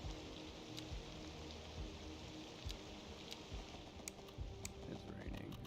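Steady rain in Cities: Skylines II hisses evenly throughout, a dense constant patter with a few sharper drop-like ticks scattered on top, fairly loud and unbroken.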